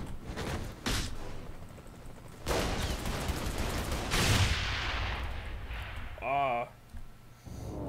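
Gunfire and large explosions in a Saints Row 3 video game firefight, with loud bursts and booming blasts in several waves, interspersed with talk.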